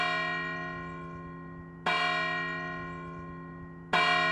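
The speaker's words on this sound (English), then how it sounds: "when those churches ring their church bells, the effect is simply magical" A large church bell in Braga, Portugal tolls three times at slow, even intervals, each strike ringing out and decaying into a long humming resonance.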